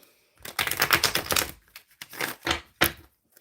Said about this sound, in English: Okay, I am shuffling.